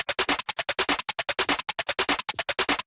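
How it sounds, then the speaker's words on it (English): Trap snare sample arpeggiated into a rapid, steady stream of crisp, noisy hits, dense and loud with short gaps between strikes and no voices. "I have a snare sample, which is being arpeggiated as well."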